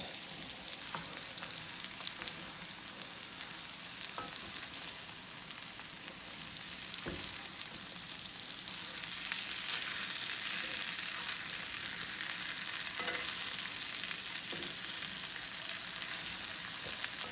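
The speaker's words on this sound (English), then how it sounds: "I'm just swirling them around in that butter" Potatoes pan frying in butter with caramelized onions, being swirled around, a dense continuous sizzle that swells slightly partway through, close and even, with occasional faint clicks and no voices.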